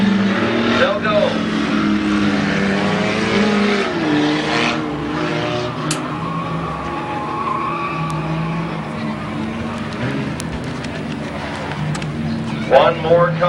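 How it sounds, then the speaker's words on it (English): Race cars in a 15-lap figure 8 race at Midvale Speedway at night, engines droning steadily with tire squeals and skids, while a loud announcer talks over the action throughout. "15 lap figure 8 race."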